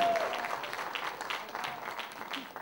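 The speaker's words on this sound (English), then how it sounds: "Give Gautam a round of applause" A conference audience at an ad:tech event in New Delhi claps after a gaming talk, a moderate patter of hands that comes across as fairly quiet and a little uneven.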